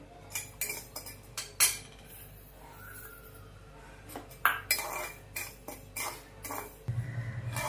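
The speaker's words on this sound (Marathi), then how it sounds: "इकडे आपण वरई भाजून घेऊया" Barnyard millet (varai) dry-roasting in a pan on a gas stove, with a spoon stirring in irregular clinks and scrapes against the metal, fairly quiet and close, without talk.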